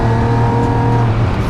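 A Mini race car at the Taupō circuit roars close and loud, its engine holding a strong steady tone with layered harmonics that shift slightly toward the end, no voices present.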